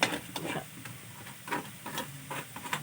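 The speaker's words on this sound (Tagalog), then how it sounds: "nagigisa natin yung chicken cubes" Chicken cubes sautéing with onion and garlic in a pan, a steady close sizzle with rhythmic stirring scrapes and clicks running throughout.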